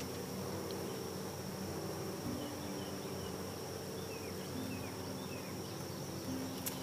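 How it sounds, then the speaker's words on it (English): A dense, steady buzz of many bees inside a hive fills the space, a constant close drone with faint higher whines drifting through. "Sounds like a lot of busy bees."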